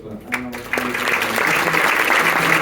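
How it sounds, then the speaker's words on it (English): Audience applause at an entrepreneurship talk, starting after a brief spoken phrase and building into steady, warm clapping that fills the rest of the moment. "Guys, please give a very warm round of applause for"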